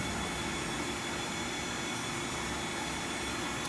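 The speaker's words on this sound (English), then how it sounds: "we're going to change the grinding mode from traverse grinding with our saddle going in and out to one of these plunge grinding modes" An Okamoto 6 x 18 inch high-precision surface grinder runs in automatic plunge grinding mode, giving a steady, loud, broadband machine whir with a constant hiss and low rumble throughout, with no talking.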